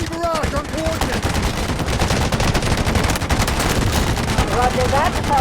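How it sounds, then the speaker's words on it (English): Artillery barrage in the mobile war game Delta Force Mobile: dense, continuous rumbling gunfire and explosions packed closely together at high volume, with brief radio-style voices at the start and end. "Artillery barrage incoming."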